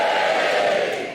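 Comedy club audience at a Sarah Millican stand-up show cheering, a broad sustained wash of many voices yelling together, fairly loud and steady before tapering slightly at the end.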